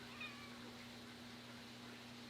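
A house cat gives a single short, faint meow indoors at home while a leaking fish tank is being repaired, set against a steady low electrical hum.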